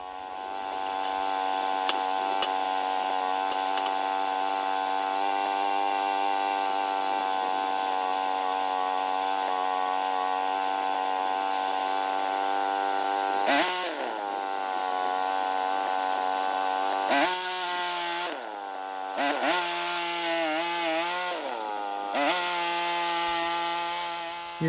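A small sawmill cuts logs into 2x4 boards: a loud, steady engine drone runs throughout, its pitch sagging and wavering several times as the blade bites into the wood, with no talking.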